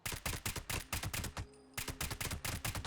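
Rapid gunfire aimed at a glowing behemoth in Fallout 76, loud close shots in quick bursts with a short pause midway before the shooting resumes.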